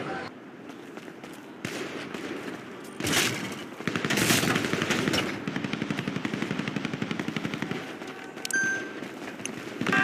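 Gunfire from a GTA roleplay weapon-store robbery crackles through the scene, with scattered shots early and then dense rapid automatic bursts in the middle and near the end, while players talk over it.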